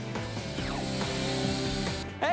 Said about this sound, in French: Un rapide travail à la tronçonneuse et le voilà décapoté en un rien de temps.